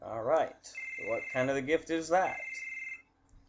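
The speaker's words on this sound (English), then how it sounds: "wait, that's the phone in the game." A telephone rings inside the Final Fantasy VII video game, a steady electronic trill running from about 0.7 to 3 seconds at moderate level, partly under someone talking over it.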